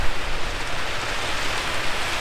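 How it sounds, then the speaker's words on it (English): Steady heavy rain hissing continuously, a dense broadband wash of falling water with no voices, during a rainstorm at a camp in Hokitika, New Zealand. "The predicted rain is more of a storm now"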